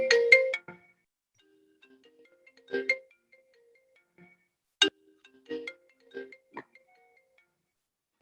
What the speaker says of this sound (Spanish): Lo siento, ya apagué el teléfono